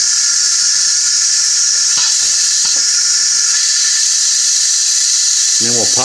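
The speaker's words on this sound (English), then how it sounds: "so we're going to let the steam out" Steam venting from an Instant Pot pressure cooker after cooking pulled pork, a loud continuous high hiss throughout with a few brief clicks and a short voice near the end.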